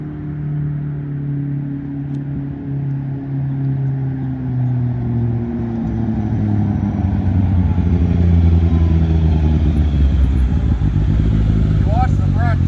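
Several turbocharged Polaris Pro R UTVs launch at full throttle, a loud, steady engine roar with layered low drone that builds and swells over time, rising whine near the end.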